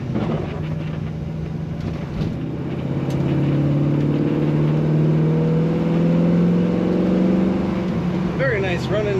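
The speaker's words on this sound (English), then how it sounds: "Very nice running 68 Chevrolet" A 1968 Chevrolet C10 Stepside engine runs steadily at a smooth idle, a continuous low hum that swells slightly midway before a brief rise near the end.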